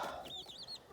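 A hen clucks softly and briefly in a cabin coop on an off-grid Alaska homestead, a faint warbling call with no talking over it.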